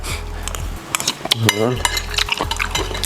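Bamboo razor clams stir-fried in a pan for a spicy Thai dish: a metal utensil scrapes and clanks against the pan in quick irregular strokes over a low sizzle, loud and close.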